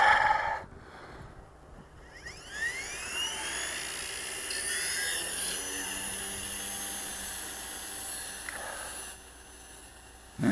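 An XK K120 RC helicopter hovers in cold air, its high whining motor and rotor rising and falling in pitch as it climbs and drops. The sound is steady and fairly close.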